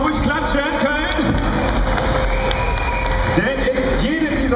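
A convention audience at a Blizzard costume contest at Gamescom 2012 claps and cheers in a dense, continuous roar, with a presenter's amplified voice running over the noise.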